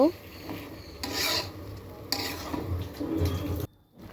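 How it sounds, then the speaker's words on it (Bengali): Sponge gourd pieces being stirred into a spiced curry in a pan, with several close, rasping scrapes of the utensil against the pan over a low bubbling sizzle. "ধুন্দুলগুলো দিয়ে দিলাম, এখন নাড়াচাড়া করে নিব।"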